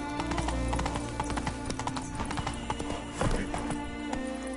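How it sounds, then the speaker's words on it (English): Hooves clip-clop rapidly as the horse Roach gallops in The Witcher 3, a steady rhythmic drumming close by, with brief neighs and faint game sounds underneath. "Run, Roach."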